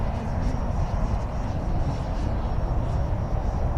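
A Banana Hobby X-FLY T-7A model jet with a 64mm ducted fan roars steadily overhead as it flies past in windy conditions, its whine constant and fairly loud, with no talking.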